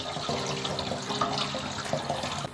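Snake gourd is rinsed under running water, a steady splashing tap flow with small shifts as the vegetable is turned, close by and without talk.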